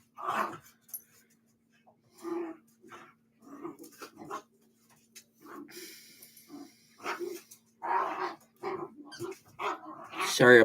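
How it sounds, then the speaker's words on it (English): Dogs bark intermittently at a distance, short bursts scattered through the clip around a steady low hum, with the barking sitting underneath occasional talk. "Sorry about my dogs in the background."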